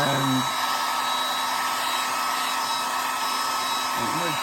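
A hair dryer blows on a watercolor wash in a loud, steady whir that holds without a break, with a brief voice at the start and the end.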